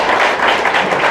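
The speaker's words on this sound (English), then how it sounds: "Please, give him a round of applause." Applause from a concert audience at a choral arts event greets a guest. It is a dense, loud, continuous wash of clapping filling the short moment.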